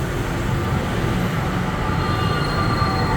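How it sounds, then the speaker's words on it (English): An air-conditioned bus passes in heavy Bangkok street traffic, a loud, close, steady roar of engine and road noise that fills the whole moment without letup. "Here comes the air-conditioned bus."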